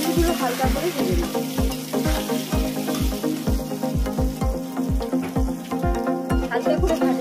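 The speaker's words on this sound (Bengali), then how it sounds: "পনিরগুলো হালকা করে ভেজে নেব।" Paneer cubes fry lightly in oil with a steady crackling sizzle, joined by regular low thumps that keep a rhythmic beat all the way through.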